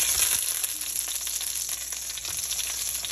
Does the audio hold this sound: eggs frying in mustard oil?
yes